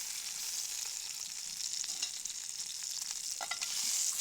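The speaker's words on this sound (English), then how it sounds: "Adding fresh butter to the hot cast iron pan to keep that rich, sizzling flavor going." Chicken frying in butter in a hot cast iron pan at a riverside campsite, giving a steady, dense bright sizzle throughout with a few crackles and a soft stir near the end, no talking.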